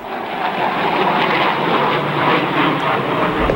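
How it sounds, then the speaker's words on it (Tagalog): FA-50 fighter jet flying during a military bombing campaign, a steady, loud broadband engine roar that holds constant throughout without any voices. "Mula sa FA-50 jet na nagbagsak ng bomba kahapon"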